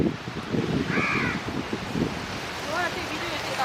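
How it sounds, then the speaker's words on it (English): Crow cawing at a windy Changi Beach car park, two or three harsh caws rising over steady wind noise and surf, with people talking nearby. "hey bird, hey crow"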